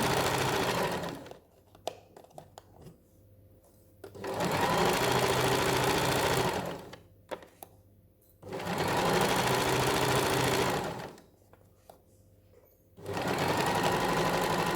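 A sewing machine stitches a fabric cushion in three sustained whirring runs. Between them come quiet pauses with small clicks as the needle is lowered and the presser foot lifted to pivot at corners.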